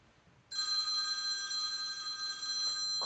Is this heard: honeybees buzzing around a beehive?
no